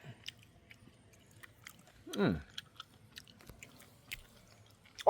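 Someone chewing fermented fish (pla daek), with soft wet crunching bites repeating irregularly and close, and a louder chomp near the middle.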